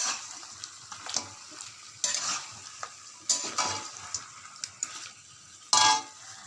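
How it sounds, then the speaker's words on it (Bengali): Chicken sautés in a pan with Kashmiri chili powder and hot chili powder, giving a steady close sizzle broken by repeated scraping stirs and light clinks of a utensil against the pan. "এবার এটাকে আরও ভালো করে কষতে হবে।"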